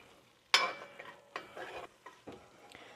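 Flour cooking in a pan for a chicken pot pie filling, stirred with a utensil: a sudden scraping sizzle followed by several short, close stirring scrapes and soft clinks, with no talk.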